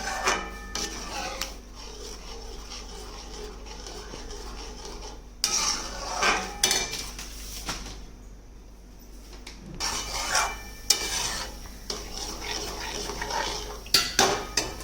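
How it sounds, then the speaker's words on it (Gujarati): A spoon scrapes and clinks against a pan while Maharashtrian pithla batter is stirred on a low flame. The strokes are soft and repeated, with occasional sharper metallic knocks over a quiet background. "હવે તેને ધીરી આંચે આપણે હલાવતા રહેવાનું છે, નીચે ચોંટે નહીં તેનું ધ્યાન રાખવાનું"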